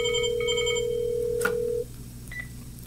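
A Panasonic TGP cordless phone calls a second handset: a few short beeps, then a long steady tone that cuts off with a click, followed by quieter faint chirps of ringing.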